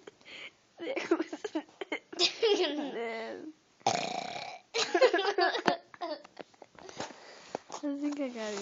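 Repeated loud burps from a child during a burping and farting contest, several throaty eructations spaced across the stretch, with sniffs and brief bits of other sound between them.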